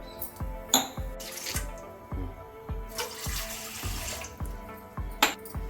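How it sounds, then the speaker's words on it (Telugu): Water is poured for cooking rice flour with jaggery, heard as rhythmic splashing and gurgling with a few sharper knocks and bursts of running water, close by and without talk. "ఈ గ్లాస్ అన్ని వాటర్ పెట్టాలి"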